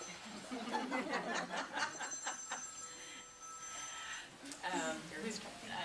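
A cell phone rings out during a Sunday church service, its repeated electronic tones rising over the congregation's chuckles and scattered talk.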